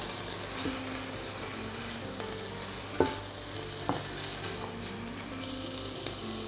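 Minced meat sizzles steadily in a pan for a keto taco filling, with tomato paste stirred in; a spoon scrapes and clacks against the pan a few times over the continuous frying hiss.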